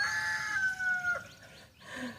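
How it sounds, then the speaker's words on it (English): A rooster crows a long, drawn-out call in the foreground, followed by a second shorter crow and a soft cluck, outdoors and fairly close. "Oh my goodness, these roosters."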